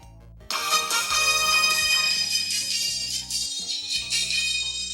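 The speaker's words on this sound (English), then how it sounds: "I just want this ringtone." A phone ringtone begins abruptly after a short low hum, a bright repeating melodic tone pattern playing loudly and steadily, alone with no talk.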